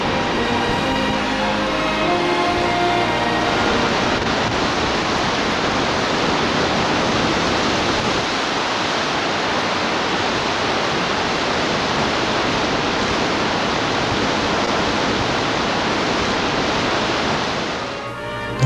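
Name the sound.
Helm Canyon waterfall, 140 meters high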